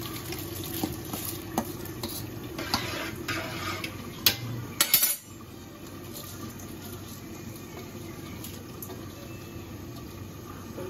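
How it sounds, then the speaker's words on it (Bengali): Rice and lentils poured into a pot for chicken khichuri, sizzling and rattling under brisk stirring strokes, with a few sharp scrapes before settling into a steady low frying hiss. "এখন এই চাল ডালটা দিয়ে দিলাম।"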